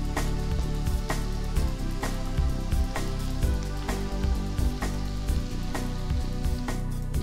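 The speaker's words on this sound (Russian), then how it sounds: "Добавляем наш перец к луку и жарим несколько минут на малом огне." Chopped peppers and onion fry in a pan over low heat, giving a dense, steady sizzle with constant crackling pops throughout, close and loud with no talking.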